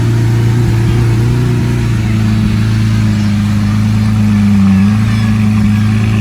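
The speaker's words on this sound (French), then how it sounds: "celle-ci, elle a l'échappement sport, on l'entend clairement" A green Verde Mantis Lamborghini Aventador S LP 740 with sport exhaust rolls by on a Monaco street, its deep engine drone steady and loud throughout with a slight rise in pitch near the end.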